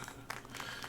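Applause in the video game Syberia The World Before, a brief, faint patter of hand clapping from a small audience that lasts under a second, heard on its own without any speech.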